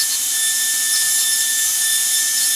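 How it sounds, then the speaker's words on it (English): High-pitched whine of a dental burr drilling an access cavity in a mandibular molar, a steady continuous dental handpiece tone held without break, close and fairly loud. "we can easily move this burr on the pulpal floor"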